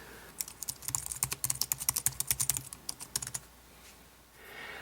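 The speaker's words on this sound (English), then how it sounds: "So now I can start using the keyboard on my iPhone." Brisk, close typing on a Logitech K760 Bluetooth keyboard paired to an iPhone, with a quick run of crisp key clicks that slows and then stops, followed by a brief soft rustle.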